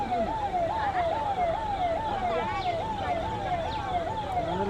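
A forest department vehicle's wailing siren rises and falls in a fast, repeating yelp, loud and continuous over traffic noise, with faint voices underneath, near Palar Porunthalar Dam.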